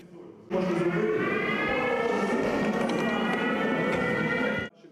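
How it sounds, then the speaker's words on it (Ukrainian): A civil defense air raid siren sounds during a first aid training session in Vinnytsia, Ukraine, starting after a half second of quiet and holding a loud, steady wail with rising harmonics for about four seconds before cutting off. "Та майстер-клас перериває повітряна тривога."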